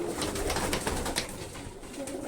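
An older pigeon at a fancier's loft, soft low cooing repeated a few times, faint and close, with light rustling around it.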